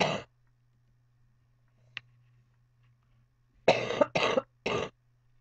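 A single sharp cough opens a quiet room, followed after a pause by a tight cluster of three more coughs, close and fairly loud.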